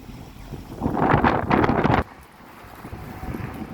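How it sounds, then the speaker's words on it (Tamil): Strong, cold wind gusts outdoors in Prague, buffeting the microphone with a loud rushing roar for a couple of seconds before easing into a lower, steady blow. "இப்பொழுது இங்கே நல்ல காத்தடிச்சு கொண்டிருக்குது, குளிர் கூடிக்கொண்டிருக்கிறது."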